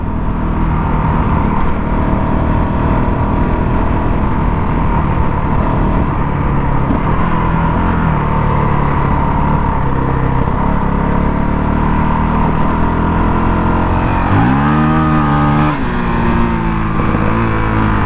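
A fuel-injected Honda CRF450 motorcycle on street-oriented tires revs while being ridden, its loud, steady engine drone filling the whole stretch before a quick rising rev near the end.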